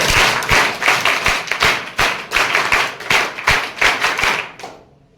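Rhythmic group clapping at a scout camp closing ceremony in India, with loud patterned claps in repeated bursts by many hands. It carries on steadily and stops abruptly near the end, with no talk over it.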